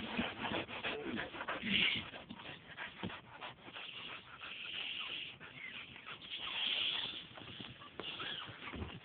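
Newborn puppies whimper and squeak softly in a quiet room, thin high cries rising and falling over several seconds with faint rustling and no talking.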